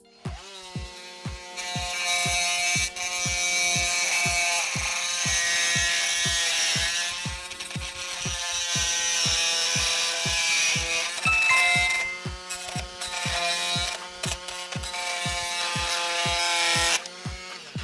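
An oscillating multi-tool fitted with a RAMIXER replacement blade cuts through a thin screw while a dimmer fixture is removed during renovation work. It makes a loud, sustained buzzing whine with a rapid pulsing rhythm for about seventeen seconds, with no voices.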